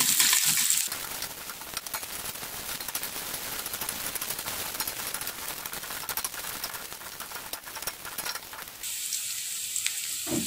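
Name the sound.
shallots and garlic sautéing in hot vegetable oil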